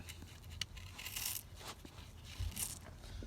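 A blown SKAR Audio car speaker is torn open by hand, giving a few close, scratchy ripping and crinkling bursts with small clicks between them, fairly quiet with no talk.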